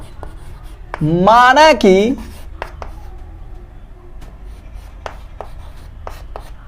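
Pen or chalk writing during a Class 10 math lesson, soft scratchy strokes scattered through the clip under a teacher's voice, which speaks briefly in the middle.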